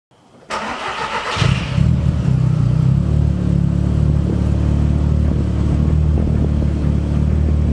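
An Audi car engine running on ethanol starts, then revs and holds a steady, loud rumble close by, the throttle worked throughout with no talk.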